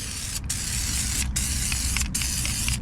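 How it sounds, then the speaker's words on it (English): Close, loud hissing bursts of an aerosol oil undercoating spray can applied to a car door, released in several long pulses with brief pauses between them. "I highly encourage all of you to spray your door jambs as well"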